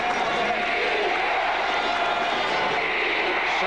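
A big football stadium crowd at a 1987 Seahawks versus Oilers AFC wildcard game keeps up a loud, sustained roar of cheering for the defense, a dense wash of noise with no pauses.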